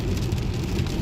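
Rain falls steadily on a rainy day, a dense, even hiss with a low rumble underneath, heard alone without speech.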